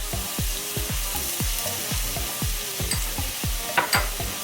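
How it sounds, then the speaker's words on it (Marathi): Ginger garlic paste frying with browned onions in a pan for a Maharashtrian mutton dish, a close continuous sizzle punctuated by rhythmic scraping strokes of a spatula, with no one speaking. "त्याचा कच्चा वास जाईपर्यंत आपल्याला परतून घ्यायचंय छान"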